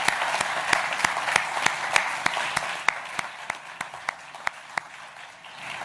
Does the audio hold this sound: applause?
yes